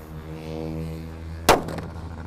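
A single loud, sharp blast from a large Gorilla firecracker going off after a steady low hum, with a short ringing decay.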